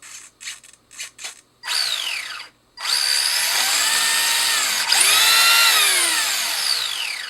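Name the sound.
Tamiya XV01 RC rally car motor running, electronics check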